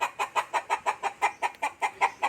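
Chickens cluck in a steady, even rhythm of about a dozen short calls, close by and fairly quiet, with no voices.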